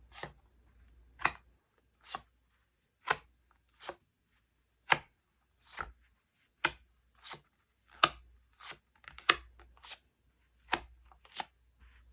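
Tarot cards are handled and flipped open in a quiet room, a series of sharp, close papery snaps and slides spaced roughly a second apart, with faint low background hum and no talking.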